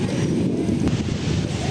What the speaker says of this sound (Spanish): acá también está bastante ventoso